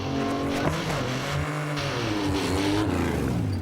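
A race car on a short 30-foot straight dash roars from a standing start, its engine note climbing and shifting as it accelerates, loud and close with a brief tire squeal and no talking.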